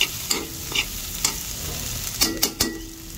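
Ginger sautéing in a pan for a beef dish gives a steady low sizzle broken by several sharp scrapes and taps of a utensil stirring, close and clear, with nobody speaking.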